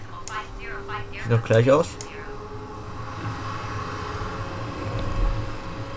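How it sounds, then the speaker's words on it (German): Reverse thrust on an Airbus A320 in Microsoft Flight Simulator 2020 swells into a steady broadband roar after a brief spoken line, building and holding loud to the end. "Umkehrschub anmachen, hören wir mal."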